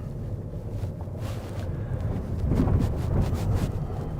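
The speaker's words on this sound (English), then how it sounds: "Bit windy out there, but nothing to worry about." Steady wind gusts rumble against the microphone beside a boat on the Norfolk Broads, swelling louder near the middle, with no voices.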